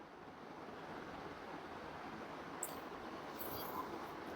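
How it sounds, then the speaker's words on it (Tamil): Tomatoes frying in hot oil in a pan for Tamil puliyodharai give a steady, continuous sizzle and crackle throughout, close and even, with no talking. "தக்காளி போட்டு அதையும் நல்லா வதக்கிக்கலாம்"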